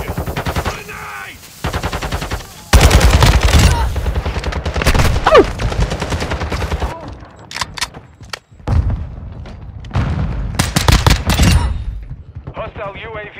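Bursts of rapid automatic gunfire and single shots from Call of Duty multiplayer ring out loud and close, crackling in dense volleys with brief pauses, while voices talk at intervals beneath the shooting.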